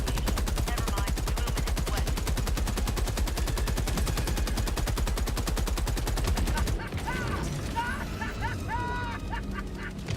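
Heavy machine gun in Helldivers 2 firing a long, fast, evenly spaced burst for about seven seconds, loud and close, then stopping abruptly and giving way to chaotic battle noise with honking creature-like cries.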